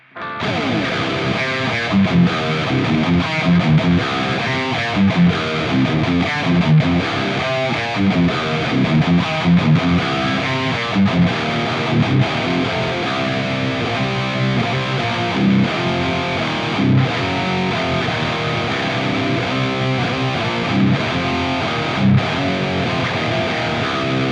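Electric guitar played through a Mooer mini modeller, a compact portable amp-modelling unit, with a driven, distorted tone strumming and picking steadily and loudly throughout, with no talking.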